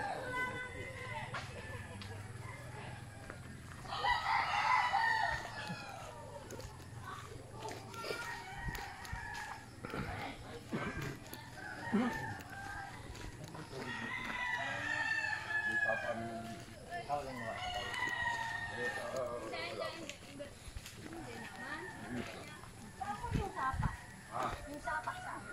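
Fighting cocks crow repeatedly at a gamefowl farm in rural Tanay, Rizal, the calls rising at intervals over steady outdoor background noise and people talking nearby.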